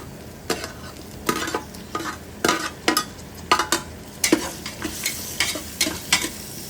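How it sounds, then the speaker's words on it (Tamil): Vegetable rice mixture stirred and fried in a pan, with a spoon scraping in repeated short strokes over a steady sizzle, close and moderately loud, no talking. "நல்லா கிளறி விடுங்க."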